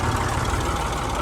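A tractor engine runs steadily at close range, a loud, continuous low rumble with no breaks and no voices over it.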